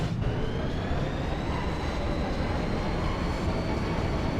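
A moving train in Final Fantasy VIII: a steady, loud rumbling drone with a faint rising whine, continuous and unbroken from start to finish, with no voices.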